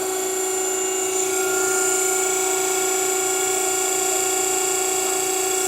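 An Everett Industries chop saw's coolant pump runs with a steady, continuous mechanical hum and whine, holding an even level throughout with no talk.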